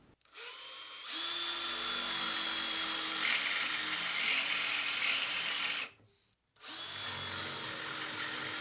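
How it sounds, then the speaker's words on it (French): A steady, loud, whining drill runs for several seconds on a wooden workbench leg, stops briefly, then starts again, with no talk. "Je vais commencer à faire le trou à la main."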